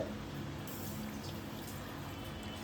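Water is poured into a glass to soak basil seeds for a lemon sharbat, making a steady, continuous splashing pour heard up close and alone.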